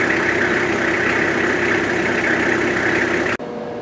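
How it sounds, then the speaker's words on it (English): A small pump pack engine runs at a steady, loud idle with a constant droning hum, then the sound changes abruptly near the end. "And now we've got engine power."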